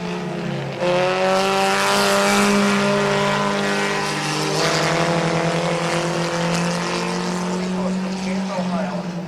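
Stock race cars roaring around Midvale Speedway, a loud sustained multi-engine drone with shifting pitch as cars pass, heard from trackside with a public-address announcer talking over it.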